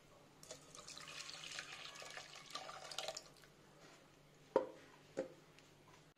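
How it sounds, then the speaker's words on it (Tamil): Blended watermelon juice with no added water is poured into a filter: a soft, steady liquid trickle and splash for about four seconds, then a few sharp clinks of the container, quiet and close. "இப்போ வந்து இதை எடுத்து ஃபில்டரில் ஊற்றிக்கலாம்."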